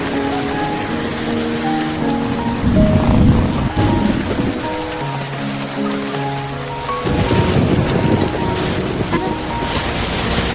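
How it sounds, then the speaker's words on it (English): A heavy rainstorm around a camper van: a loud, continuous wash of rain fills the whole stretch, with steady tonal music playing over it. "Rainstorm hit out of nowhere."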